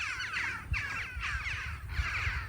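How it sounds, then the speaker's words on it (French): Crows caw outdoors in the open spaces of the Vercors, with repeated harsh calls in an uneven rhythm over a low, steady rumble of wind. "Juste le vent et le chant des oiseaux."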